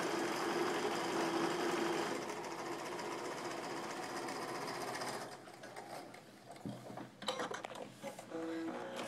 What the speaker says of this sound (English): run them all through your sewing machine.